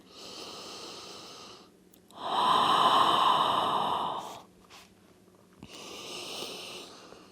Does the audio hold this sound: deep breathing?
yes